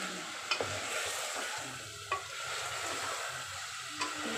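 Chicken pieces are stir-fried with spices for methi chicken, giving a soft, steady sizzle with a few sharp spoon taps against the pan spaced a second or two apart.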